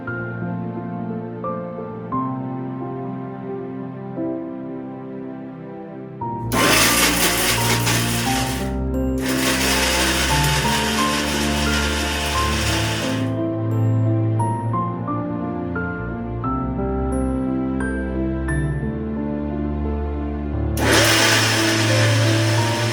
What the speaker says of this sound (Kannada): ಮಿಕ್ಸ್ ಮಾಡಿರೋದೆಲ್ಲ ಈಗ ಮಿಕ್ಸಿಗೆ ಹಾಕೊಂಡಿರತ್ತೆ